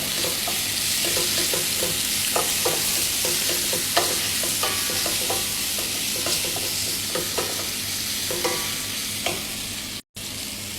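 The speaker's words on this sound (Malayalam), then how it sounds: "നന്നായിട്ട് ഇളക്കുക." Mango and carrot pickle with turmeric, salt and asafoetida sizzles in a pan while a spoon stirs it, a constant frying hiss punctuated by regular scraping strokes, close and fairly loud.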